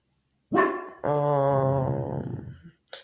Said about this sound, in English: So sorry if you hear my dog. She barks at everything.